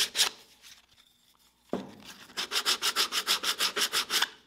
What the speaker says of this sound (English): we can just give it a final little sand